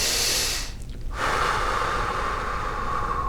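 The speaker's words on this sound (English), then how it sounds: "but you want to breathe in" A person takes a slow, deep breath in, a loud airy rush that swells after a brief pause and holds steady, with no talking.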